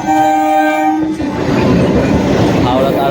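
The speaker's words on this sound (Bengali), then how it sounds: "তারকেশ্বর থেকে হাওড়া যাওয়ার ট্রেন ঢুকে গেছে" Tarakeswar to Howrah train pulling into a station, a long horn blast sounding loud and close before giving way to rumbling wheels and carriage noise.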